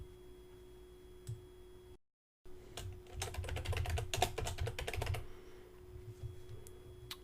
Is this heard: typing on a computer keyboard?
yes